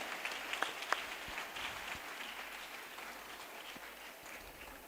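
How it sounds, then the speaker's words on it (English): Crowd applause at a ceremony honoring a minister at a homeopathy medical council event, a faint, continuous wash of many clapping hands heard from a distance. "Dr. N.R. Jaykumar, with a huge round of applause and appreciation when we honor the Minister"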